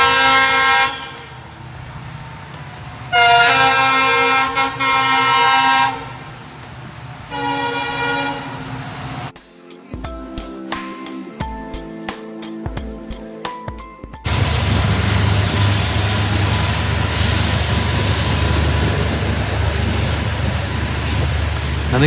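Two trains pass on adjacent tracks. A loud, close horn blares in long repeated blasts, then wheels clatter rhythmically over rail joints, and a broad, steady roar of a passing train fills the rest.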